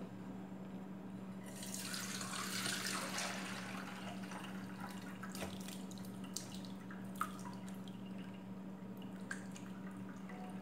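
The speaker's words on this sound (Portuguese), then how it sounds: "eu vou deixar escorrendo agora esse líquido. Ele sai um soro" Milk whey pours through a fine sieve into a pan during homemade ricotta making, a soft splashing trickle that swells early and then thins to a faint steady drain with a few small drips.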